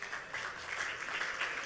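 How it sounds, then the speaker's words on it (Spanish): Faint, continuous applause from a church congregation asked to clap loudly for the Lord, a soft even wash of many hands heard from a distance. "Denle un aplauso fuerte al Señor."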